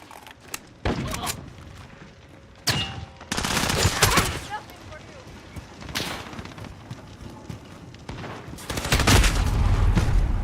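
Dragon's Breath rounds striking the player in a video game: bursts of gunfire in irregular clusters, some sharp single shots and some rapid volleys, loud and close, with a heavier barrage near the end.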